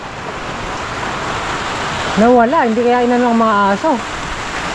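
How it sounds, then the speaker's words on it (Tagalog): Steady rain falls outdoors in the Philippines at evening, a dense hiss throughout, while someone speaks briefly partway through. "umulan na naman, Robert. Umuulan na naman."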